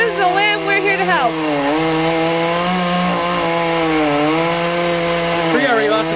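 A chainsaw cuts into a tree during an outdoor tree removal, its loud, steady engine whine rising and falling in pitch as the blade bites into the wood, running continuously close by.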